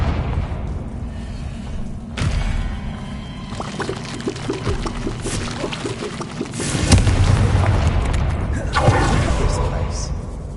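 The Confringo fire spell blasts in Hogwarts Legacy, with booming thuds and a rushing burst amid game effects, while character voices talk throughout.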